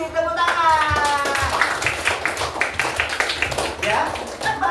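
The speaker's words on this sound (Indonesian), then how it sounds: "Sepi, tepuk tangan." Classroom students clap their hands in a brief, uneven burst after a voice with a rising tone at the start. Scattered claps follow with shifting strength, fairly close and moderately loud.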